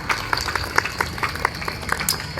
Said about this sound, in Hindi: एक बार बहुत जोरदार तालियों से स्वागत करते हुए इनका